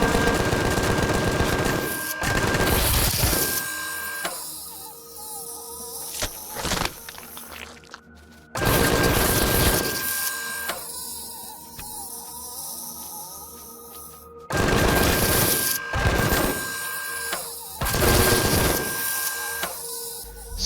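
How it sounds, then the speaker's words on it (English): A minigun in Empyrion Galactic Survival fires at spiders in long, dense, buzzing bursts, loud and close, with brief gaps between volleys and no talking. "I go ahead and grab my minigun that I unlocked ammo for in between episodes, and I take it out for a spin"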